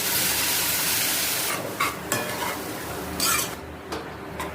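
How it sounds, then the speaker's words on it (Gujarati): Toor dal being added to cooked spinach in a pan and stirred, a steady close sizzle running throughout with a few sharper scraping and clinking moments from the spoon against the pan. "તો આ તુવેરની દાળ બાકી છે આપણે એ નાખી દઈશું"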